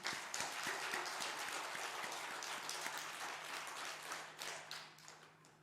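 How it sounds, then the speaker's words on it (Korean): A congregation at a Korean Sunday worship service gives a round of thankful applause, a steady, fairly even wash of many hands clapping that stays consistent to the end. "우리 함께 다시 한번 감사의 박수를 올려드립니다."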